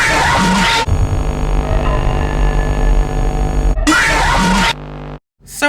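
A Five Nights at Freddy's 2 jumpscare: a harsh, robotic, screeching blast holds loud and steady for several seconds between noisy bursts, then cuts abruptly to near silence.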